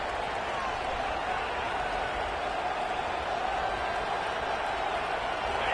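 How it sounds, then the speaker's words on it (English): A Texas Tech stadium crowd roars on a third down in a football video game, a loud, steady wash of cheering noise that holds without break. "Guns up, and so is the noise. The crowd electric trying to help Tech on this third down."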